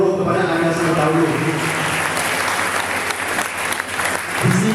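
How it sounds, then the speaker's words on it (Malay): Loud, sustained applause from a large audience honouring students at a gathering, a dense continuous roar of clapping, with speech faintly underneath. "Kita berikan satu tepukan yang gemuruh kepada anda semua dahulu."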